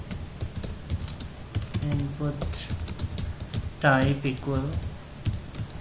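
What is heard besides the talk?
typing code on computer keyboard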